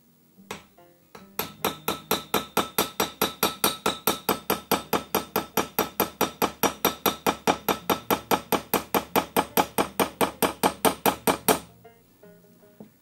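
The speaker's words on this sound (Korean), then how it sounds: "타격을 할 때는 날물이 여기서 반동이 생기지 않도록 정확히 꽉 눌러 주셔야 하고요." A hammer taps rapidly on a Japanese hand plane blade to set it, delivering around forty quick, even metallic strikes in a steady rhythm, close and distinct, then stopping.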